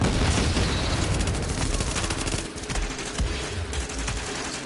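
A grenade blast in a World War II style shooter game, a loud dense boom layered with continuous gunfire that rolls on throughout with no break.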